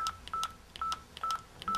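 Mobile phone keypad tones sound while a number is looked up, with five short beeps spaced in an irregular rhythm, fairly faint against a low background hum.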